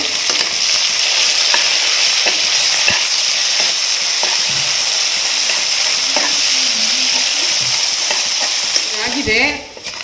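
Onions and green chillies frying in a pan for a fish-head sambar, a loud continuous sizzle broken by regular scraping stirs and clinks, with a brief clatter near the end.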